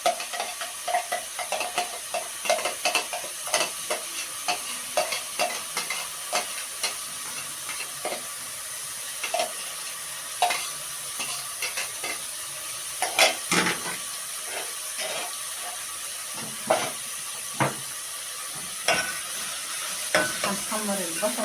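A large chopped onion sizzles in a pan, with a steady crackling fry broken by frequent scrapes and taps of a spoon stirring close up; no one speaks.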